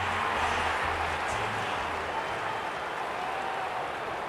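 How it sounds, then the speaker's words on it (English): A stadium crowd before the Melbourne vs Sydney Swans football match makes a constant, dense roar that stays loud and unbroken throughout, with a low hum beneath it. "The crowd already making plenty of noise as the captains come together."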